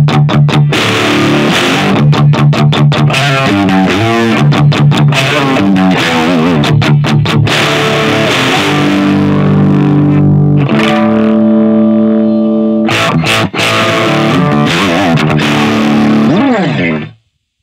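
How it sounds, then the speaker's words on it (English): Electric guitar played through a Sofadio Jack Skellington distortion pedal, a budget effects unit, with every knob at twelve o'clock: loud, continuous distorted strums and sustained chords with rhythmic chugging, then a ringing held chord near the end. "This is the Jack Skellington Sofadio Distortion."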